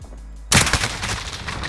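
Video game gunfire from a 725 shotgun in an online match; an abrupt loud blast followed by rapid overlapping shots and echoing reports, close and dense, with no voices.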